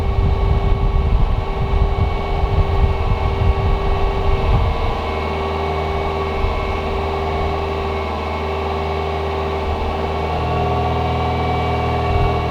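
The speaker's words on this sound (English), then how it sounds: "what I'm doing right now is to rev the engine" A car engine with its radiator cooling fan disconnected, overheating at about 222 degrees and being revved: a loud rumbling run that drops after about five seconds to a steadier, lower idle-like hum with a droning tone.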